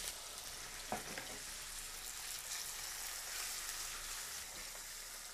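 Teukon and vegetables sauté in hot oil, giving a steady, close sizzle and crackle that runs the whole time, with a brief stirring clatter near the start.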